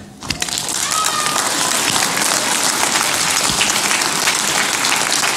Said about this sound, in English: Y'all clap your hands.